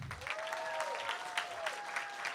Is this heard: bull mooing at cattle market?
no